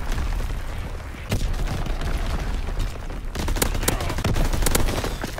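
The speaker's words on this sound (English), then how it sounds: "Firing primary battery" Artillery barrage in Call of Duty: WWII, a rapid run of loud, close blasts and booms that thickens into a dense volley of repeated impacts in the second half.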